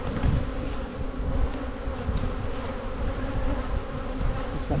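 Honeybees buzz loudly and continuously around an opened hive during an early spring inspection: a dense, close swarm hum with no pauses.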